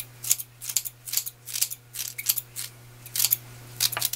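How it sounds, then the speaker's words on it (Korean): Scissors snipping small pieces of napa cabbage kimchi leaves in a kitchen, about a dozen crisp close cuts in a quick uneven rhythm over a low steady hum. "가위로 잘라주겠습니다"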